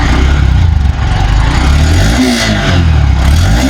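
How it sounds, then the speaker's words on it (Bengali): A Honda SP 125 motorcycle engine revs under repeated throttle blips, loud and close, with a busy mid-range drone rising and falling in pitch over a steady idle. "থ্রটল দাও, একটু সাউন্ড আপনাদের শোনাই।"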